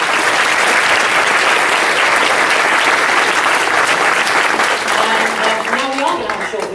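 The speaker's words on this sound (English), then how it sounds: "So give them another round of applause." An audience at a school awards ceremony gives a loud, sustained round of applause, the clapping dense and continuous before a voice briefly starts speaking over it near the end.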